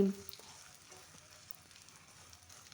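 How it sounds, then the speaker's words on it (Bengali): Egg and onion being stirred and fried in a pan, giving a soft, steady sizzle with faint scraping, fairly quiet and close. "ডিম দিয়ে পেঁয়াজ দিয়ে একটু ভালো করে নাড়াচাড়া করে নিয়ে"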